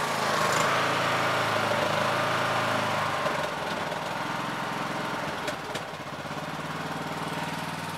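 A Yard Machines MTD mower with a 20 HP Briggs engine running close by, its steady drone easing to a lower, softer tone as the throttle drops partway through.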